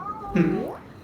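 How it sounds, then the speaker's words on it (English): A cat lets out one drawn-out meow with a rising then falling pitch, fairly close and clear over a quiet room background. "Sorry about the cat in the background."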